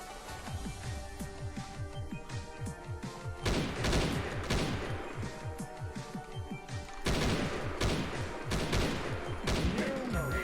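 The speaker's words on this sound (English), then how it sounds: "Underwater railguns that shoot really quickly." Rapid-fire underwater railguns in a multiplayer video game shooting in fast, continuous bursts, a dense rattle of repeated shots with louder flurries partway through, heard over faint background game sounds.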